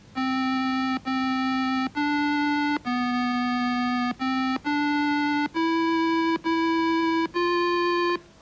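A simple computer-generated melody from the Logo Music System plays as a run of about ten clean, buzzy electronic tones, each held for under a second with short gaps between them.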